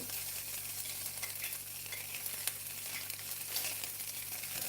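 Chopped garlic and ginger frying in hot seasoned oil in a pan for mushroom and chicken fried rice noodles, giving a steady soft sizzle with faint stirring rustles, close and quiet, no voices.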